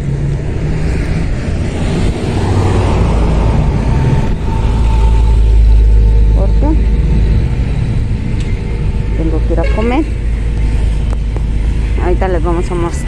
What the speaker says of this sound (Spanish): Un tráfico tremendo.